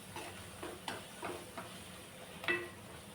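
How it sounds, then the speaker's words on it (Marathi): Ginger garlic paste roasting with spices in a pan for a wedding-style brinjal and potato curry, faint sizzle with a few spoon scrapes and one sharper metallic clink near the end, close and quiet. "यालाही भाजून घेऊया मसाल्यासोबत।"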